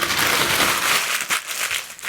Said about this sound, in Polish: lepiej jest zmiąć papier